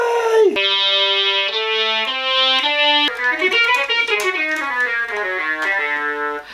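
Yamaha YDS-120 digital saxophone played through heavy effects, a sequence of sustained, buzzy synthetic notes stepping up and down, then a wavering, bending phrase with warbling pitch; loud and close, with no talking.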